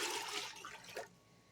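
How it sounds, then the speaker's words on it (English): Four cups of water pour into a pot of chow chow ingredients, a close splashing gush that thins to a trickle and stops after about a second. "And then you're going to pour 4 cups of water."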